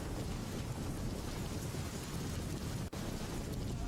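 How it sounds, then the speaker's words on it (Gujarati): Heavy downpour pounding the Ahmedabad–Gandhinagar SG Highway, a dense, steady roar of rain close by that runs without a break apart from one brief dip near the end. "એસજી હાઈવે ઉપર જે વરસાદ અત્યારે ધોધમાર અમદાવાદ ગાંધીનગર હાઈવે ઉપર વરસી રહ્યો છે"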